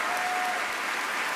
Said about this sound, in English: And they're clapping.